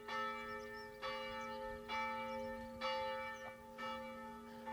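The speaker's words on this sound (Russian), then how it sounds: "Звучит колокол." A church bell in a Hungarian village is rung by hand at noon, five loud metallic strikes at roughly one-second intervals, each leaving a long ringing hum between blows, heard alone and somewhat distant.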